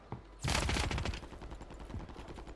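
Loud burst of automatic gunfire in the Call of Duty Warzone battle royale game, a dense rattling volley that starts abruptly and then continues as scattered, fainter shots in a busy combat soundscape.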